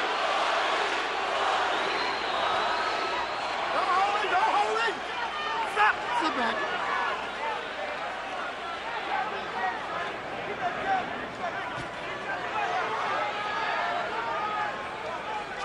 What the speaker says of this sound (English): Mosley fans in the crowd begin to chant for Shane.